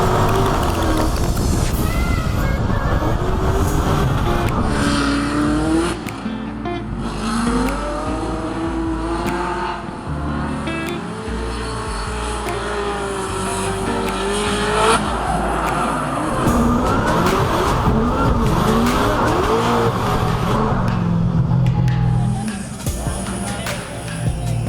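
Formula Drift cars on track for practice in St. Louis, engines revving and whining with sweeping rises and falls, loud and continuous, with voices talking over the engine noise.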